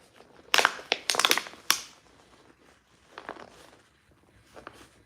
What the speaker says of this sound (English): Trying to get this nasty ass cigar smashed up and into this water bottle.